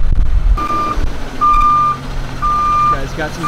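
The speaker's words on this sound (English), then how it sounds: "you can see this large truck flatbed trying to back its way in" Reversing beeps from a large flatbed truck backing into a gate at a stadium construction site in Inglewood, a steady tone sounding in three long pulses over diesel engine rumble.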